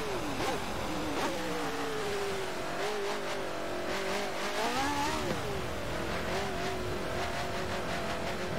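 A single-seater open-wheel race car in the video game Forza Motorsport 7 revs and accelerates, its engine pitch climbing and dipping through gear changes in a continuous, close-up whine.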